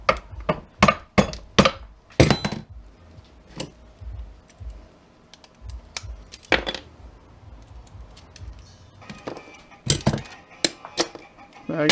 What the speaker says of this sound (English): Sometimes you can hit them at an angle just right with a hammer and they come off.